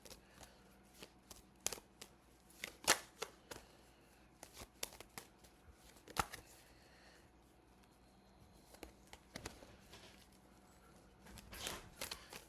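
A classic tarot card deck is shuffled by hand in a quiet room, with repeated soft riffling bursts and crisp card snaps at close range.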